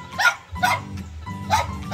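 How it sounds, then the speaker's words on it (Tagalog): A dog barks three times in quick succession at close range, set against a steady low background hum, in a yard beside its kennel. "And nandito yung aso ni Donna"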